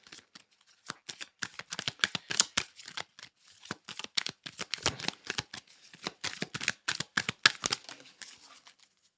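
Tarot cards from the Secret Language of Light deck being shuffled by hand, a close, crisp run of riffling flicks and soft slaps in quick bursts with brief pauses, no voices.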